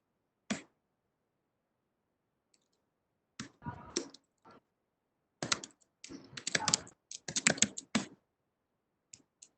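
Bursts of computer keyboard typing while entering commands in the vi text editor, with scattered clicky keystrokes and short pauses between runs, close and fairly loud.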